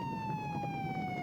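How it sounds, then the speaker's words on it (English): Police-type siren wailing from a distance, a steady tone slowly falling in pitch across a short stretch with a rumbling background beneath it. "sirens wailed in the distance"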